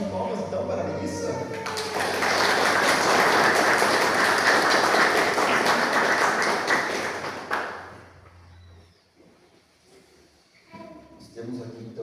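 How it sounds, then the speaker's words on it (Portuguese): During a Sunday church service, the congregation gives a warm round of applause for a woman named Melissa, six seconds of dense clapping between stretches of speech. "Uma salva de palmas então para a Melissa."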